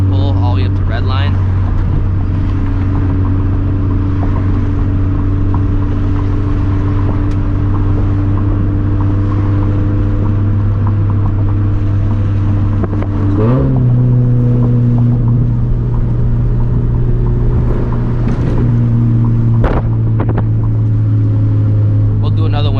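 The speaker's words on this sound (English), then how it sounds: "after that second gear pull all the way up to red line" A turbocharged Toyota FRS making over 350 horsepower pulls hard in second gear toward redline, a loud steady engine drone rising in pitch, with a brief dip and surge midway and speech over it.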